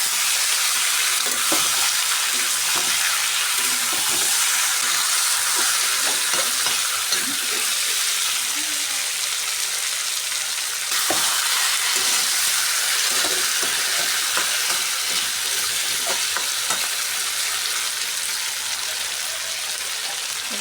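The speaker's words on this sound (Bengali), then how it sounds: "মাংসগুলোকে এবার নেড়ে করে দেবো।" Chicken pieces frying in a pan while being stirred, with a continuous loud sizzle broken by repeated scraping and clattering strokes that continue throughout.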